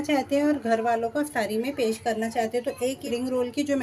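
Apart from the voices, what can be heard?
No everyday noises stand out.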